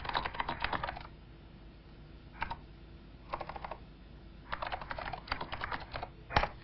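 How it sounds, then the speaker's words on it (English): Keys on a NeXT computer keyboard clatter in several quick bursts separated by short pauses, close and fairly quiet, ending with a single sharper click. "and I can type."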